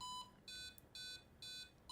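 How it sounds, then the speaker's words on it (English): A Roadie 3 guitar tuner's metronome ticks out short, evenly spaced electronic beeps, about two per second, quiet and clean with no talking. "the metronome uses just an internal beep sound"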